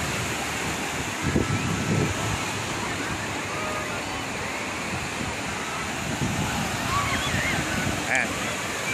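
Rough surf at Patungan Beach near Kaybiang Tunnel, Cavite, a broad steady roar of waves mixed with wind buffeting the microphone, continuous and fairly loud with faint distant voices underneath.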